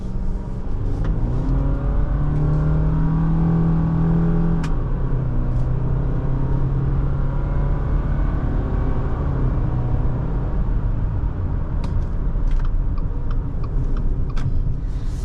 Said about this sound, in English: we're probably going to give it a couple of tries on the 0 to 60